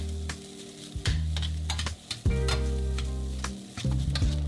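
Golden fried rice with chicken bouillon being stir-fried in a wok, with a steady loud sizzle broken by repeated scraping and tossing strokes of the spatula, close and without talk.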